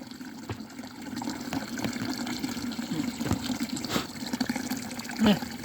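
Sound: water flowing from the Papra fountain

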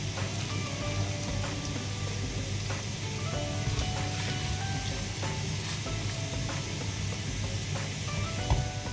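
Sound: garlic and ginger sizzling in a little oil in a wok

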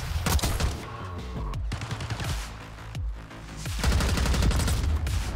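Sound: gunfire from a video game (Black Ops 6)

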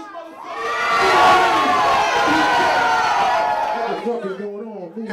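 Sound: hip hop concert crowd cheering

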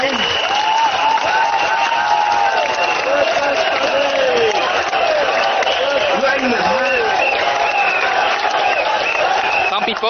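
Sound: crowd cheering and applauding at a Workers' Party rally

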